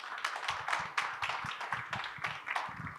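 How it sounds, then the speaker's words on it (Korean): A forum audience at a church and social-economy event claps to welcome a pastor to the stage, giving soft, scattered, uneven hand claps at moderate distance for a few seconds. "나오실 때 또 큰 박수로 맞아주시면 감사하겠습니다."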